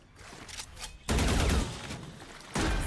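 Gunfire in the tactical shooter Valorant during a pro-match replay: two loud, sharp volleys of rapid shots, each sustained for about half a second or more, with quieter game sounds between them.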